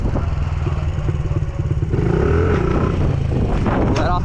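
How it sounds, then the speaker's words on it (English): A stunt motorcycle engine runs close by, its rumble pulsing as the rider eases off the throttle, with the pitch dipping and a faint rise, while a voice speaks over the engine. "Oh, we let off the throttle."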